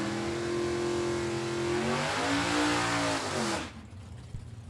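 Drag race cars at a Super Pro bracket event launch together, a loud sustained engine roar with rising revs through the gears, then cutting away abruptly into quieter distance.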